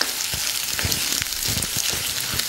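Garlic, dried red chillies and curry leaves sizzle and crackle in hot oil in a pan, stirred with scattered scraping knocks, a steady close frying hiss throughout with no talk, while tempering a black chickpea gravy.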